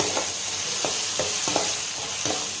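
Chili powder sizzling in hot oil in a pan while tomato rice is cooked, a steady frying hiss with several soft scraping stirs spaced through it, close and alone.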